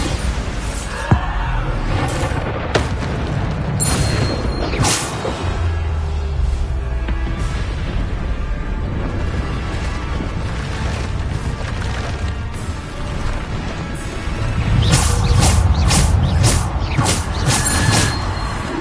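Bombarda blasting spells explode in Hogwarts Legacy combat, a series of sharp crashing blasts and splintering impacts amid clattering battle noise, loud, with a heavier burst of explosions near the end.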